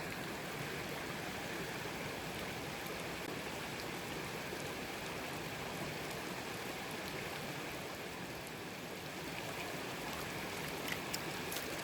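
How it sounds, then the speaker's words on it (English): Pan washing in a stream at Devil's Den: steady rushing creek water fills the scene close by, a continuous broadband wash with no clear breaks and no talking. "Now that I'm down to the small stuff, I'm gonna wash that out."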